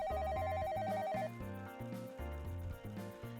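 An electronic phone ringtone plays in the Pocket Love video game, a looping melodic ring repeating in even cycles over a bouncy tune, clear and up close.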